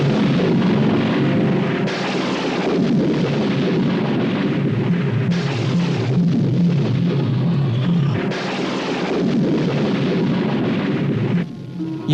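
Continuous loud booming explosion effects of universes bursting apart, heavy rumbling blasts layered over one another for about twelve seconds, with no speech.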